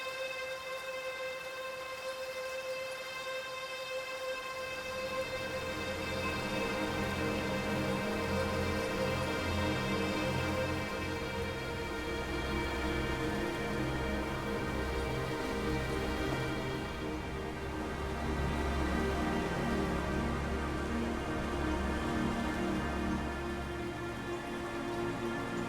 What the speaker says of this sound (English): Here's General Rain in violins. This is using Mega Magic violins fed as a convolution source while playing audio ambience.